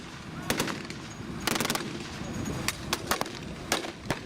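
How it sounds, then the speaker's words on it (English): Semi-automatic M1 Garand rifles fire during an outdoor WWII battle reenactment, sharp cracks spaced irregularly, some in quick pairs, against a rumbling outdoor background. "The Americans are using their semi-automatic Garand rifles, carrying 8 rounds."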